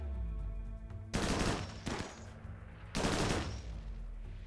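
Rifle fire in the video game Rimworld: three loud, harsh bursts of rapid shots, each about half a second to a second long, spaced roughly a second apart over a low, steady game hum.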